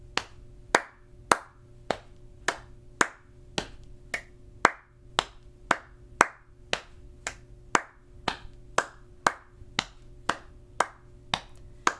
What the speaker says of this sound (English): So it's going to be pat, clap, clap, pat, clap, clap, pat, clap, clap.